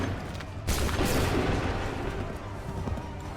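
Musket volley fire from a battle in Assassin's Creed 3 Remastered: a sudden loud, dense burst of many shots at once, followed by a rolling, rumbling barrage of gunfire that carries on with a busy battlefield din.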